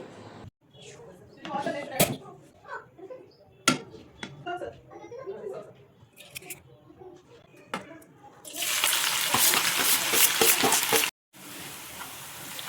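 Sliced onions frying in oil until golden brown for a bamboo chicken biryani, a steady broad hiss that grows loud and dense near the end, with scattered clinks and a voice talking over the earlier part.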